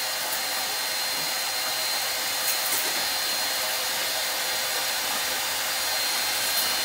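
A hair dryer blows steadily on hair, a loud, constant airy hiss that runs unbroken from start to finish with no talking.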